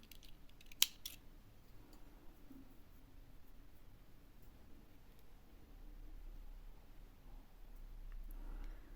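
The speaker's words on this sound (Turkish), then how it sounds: "bir zincir çektim ipimi kesiyorum" Scissors snip once through crochet yarn while making a crochet trim, a single sharp cut near the start followed by faint handling and rustle in a quiet room.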